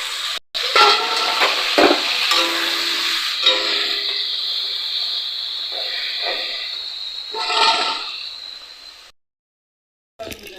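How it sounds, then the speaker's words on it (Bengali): Prawns fried in a pan of oil with salt and turmeric, giving a loud, steady, close hiss of sizzling that runs for most of the stretch, with occasional crackles, then breaks off into silence before a short return. "চিংড়ি মাছটা ভেজে নেব"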